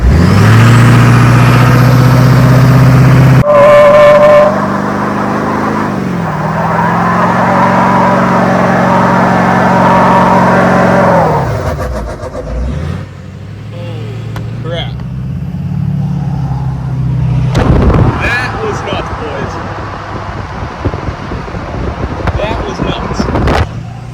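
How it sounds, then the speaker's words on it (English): A tuned Duramax LBZ diesel pickup truck does a burnout, its engine roaring loud and close with revving, then dropping away before tire noise and voices return. "let's get ready for this burnout"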